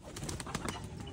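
Pigeons coo in a soft, throaty murmur close at hand while being fed grain, a brief burst of bird sounds over steady background noise.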